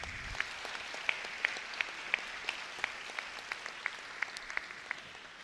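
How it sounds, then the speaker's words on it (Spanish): Applause from a graduation ceremony audience at a Colombian school, a steady wash of many hands clapping at moderate distance with sharper individual claps popping out above the crowd. "Fuerte el aplauso para ella."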